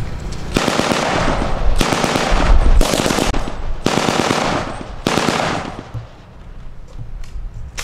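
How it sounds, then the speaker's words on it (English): M16 rifle fires automatic bursts at a Vietnam War reenactment, with five loud, close rattling volleys separated by short pauses and a fading echo at the end. "You notice that M16 has that good old rat-a-tat-tat sound that American machine guns have had ever since the First World War."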